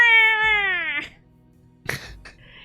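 A cat gives one long, loud, drawn-out meow that slides downward in pitch, then after a short gap lets out a brief, rougher chirping call, close and clear with no talk over it.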